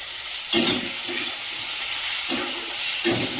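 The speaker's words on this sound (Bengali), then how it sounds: "মশলাটা কষিয়ে নিয়েছি" Spices and tomato saute in a hot pan with a steady, close sizzle, broken by several louder scraping stirs at regular intervals.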